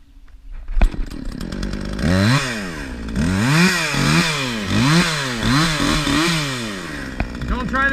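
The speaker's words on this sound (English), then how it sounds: "Here's the first idea: chainsaw." Chainsaw cutting kernels off a corn cob, starting with a sputtering pull and idle before revving hard in repeated surging bursts, loud and close, dropping back to idle near the end.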